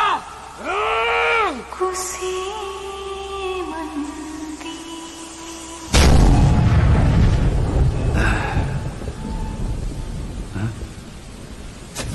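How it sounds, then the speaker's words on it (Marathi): Cannon fire in a dramatized Maratha battle scene, a sudden heavy boom that rolls into a long rumbling roar and slowly fades, following strained tonal voices and effects. "अरे आम्ही सांगतोय, तोफ वाजवा."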